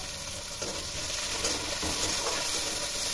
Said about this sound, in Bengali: আর এই যে পেঁয়াজটা ফোড়ন দিয়ে দেবো।